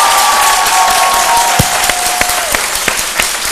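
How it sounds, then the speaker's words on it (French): Audience applause at a community event in Yopougon honoring an institute's delegation: loud, dense clapping sustained throughout, with a faint steady tone running beneath it. "vous pouvez vous applaudir."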